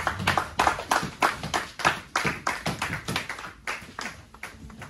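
A church congregation claps in a quick, rhythmic, slightly uneven pattern during worship, steady bursts of hand claps filling the room without talk.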